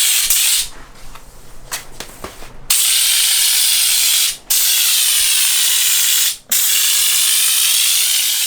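A paint sprayer blasts thick paint onto a Jeep in long, loud hissing bursts, broken by two brief pauses, with faint mechanical clicking between sprays.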